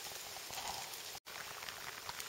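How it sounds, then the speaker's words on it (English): Steady rain near the Ape Caves on Mount St. Helens makes a dense, even hiss that continues throughout, broken only by a brief dropout partway through, with no voices. "It's really raining up here"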